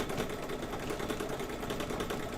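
An embroidery sewing machine that is not moving properly runs steadily with a continuous, close mechanical whir and rapid ticking.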